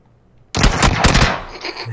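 Gunfire in the battle royale game PUBG, a sudden loud burst of rapid automatic shots breaking in after a near-silent start, then dense rattling fire that fades slightly toward the end.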